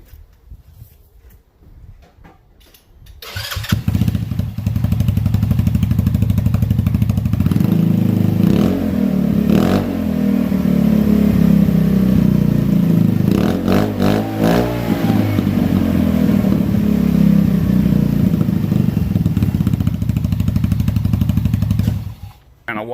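A Polaris Ace or Ranger 150 engine with a cheap custom exhaust idles loudly and steadily for about twenty seconds, with a few throttle blips partway through, after a quiet opening.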